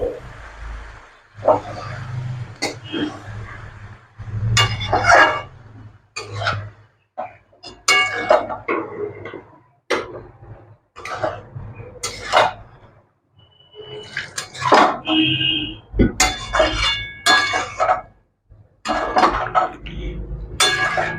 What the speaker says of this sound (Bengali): এবার ওই সর্ষে বাটা বাটিটা ধুয়ে একটু জল দিয়ে দিচ্ছি